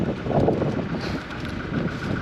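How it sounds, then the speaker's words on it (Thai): Cold wind buffets the microphone with a steady, loud rumbling roar that swells and eases slightly but never stops. "ลมหนาวอีกแล้วเนาะ"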